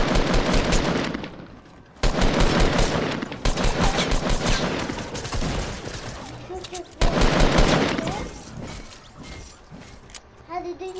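Dense bursts of automatic gunfire from a Fortnite match crackle loudly and almost continuously, broken by short pauses and a shattering crash, while young players talk over the shooting.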